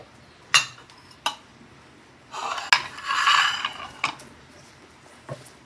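A utensil stirs a sardine mixture with tomatoes and onions in a pan, giving scattered metallic clinks and scrapes, several sharp taps and a short rustling stretch in the middle, with no talking.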